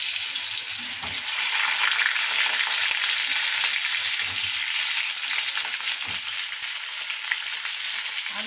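Potatoes sizzle in hot oil in a wok after a cumin tempering, giving a steady, close, continuous hiss with faint stirring scrapes and no talking.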